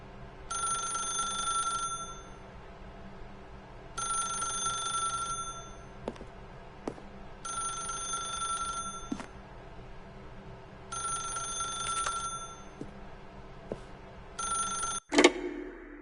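Telephone ringing in The Stanley Parable, bright electronic bell rings in five regular bursts of about a second and a half each, ending in a sharp clack as if picked up.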